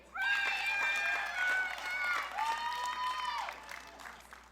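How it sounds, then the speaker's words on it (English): Applause for graduating Berkner High School scholars at the 2022 ceremony, a crowd clapping in a large hall beneath prominent voices and shouted cheers, fading toward the end. "giving another round of applause to these outstanding Berkner scholars"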